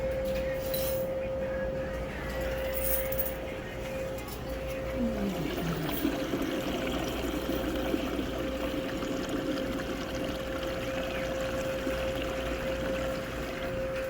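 Water running into a laundromat washing machine loaded with soap, a steady continuous pour and trickle with a constant machine hum underneath, moderately loud throughout.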